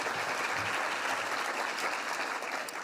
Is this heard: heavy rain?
no